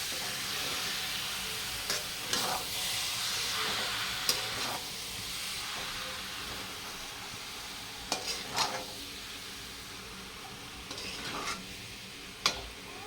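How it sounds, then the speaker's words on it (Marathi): Fresh chicken keema being stirred in a pan over high heat for a dry keema, a steady sizzle with occasional scraping clatters of the spoon spread through the clip. "त्यातलं खिमा टाकून घेऊया एकदम ताजा आणि फ्रेश खिमा आहे असं सगळं मिक्स करून एकत्र करून हलवून घेऊया छानपैकी"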